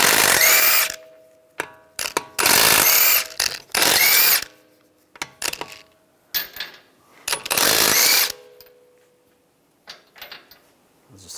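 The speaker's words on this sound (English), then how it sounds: "use a 19mm socket, take the lug nuts off" A ratchet on a 19mm socket spins wheel lug nuts off a 2013-2016 Dodge Dart 2.4L. Five loud, close bursts of rapid clicking are broken by pauses and small handling clatter, with no talking.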